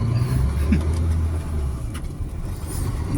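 A heavy truck labors up a very steep road, its engine a loud, steady low drone that lasts throughout, with a brief rising tone partway through.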